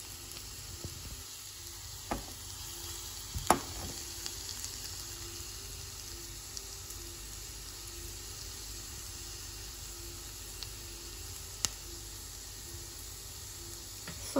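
Fenugreek seeds sizzle in hot oil as a tempering for Gujarati spinach kadhi, a soft steady hiss with faint crackles and a few small pops, no voice over it.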